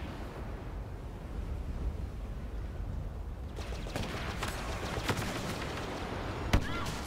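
A grenade detonates during a team-based shooter game match: a sharp blast rises from a continuous wash of gunfire and battle noise, with scattered crackling hits before it.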